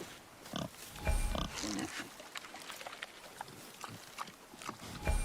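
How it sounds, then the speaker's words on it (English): A wild boar in the video game God of War grunts and snorts in rough bursts amid game sounds, while a voice talks over it. "Wild boar's hide is thick."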